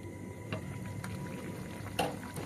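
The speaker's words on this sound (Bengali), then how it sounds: "এবার সবে হালকা ফুটতে শুরু করে দিয়েছে" Water with fish and potatoes in a pot on a gas stove, just starting to boil: a faint, steady low bubbling with a soft burner hiss and a couple of light clicks, close and quiet.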